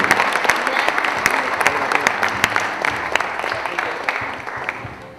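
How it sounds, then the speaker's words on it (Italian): Applause from a gathering around a decorated San Giuseppe altar table at a Bivona street festival, a steady close patter of many clapping hands that holds for about five seconds before tapering off. "possiamo fare un applauso, perché la tavola veramente diventa sacra a questo punto"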